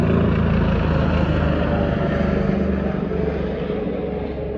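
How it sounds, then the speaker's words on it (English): Loud airplane passing overhead, a continuous heavy engine roar with propeller-like rumble that fades slightly over several seconds, alone without talk. "Sorry, the plane is hella loud."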